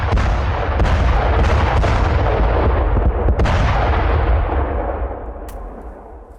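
Heavy explosions from IED blasts destroying Hamas command buildings in Rafah, a loud rumbling barrage of booms and sharp cracks that rolls on continuously, then fades slightly toward the end.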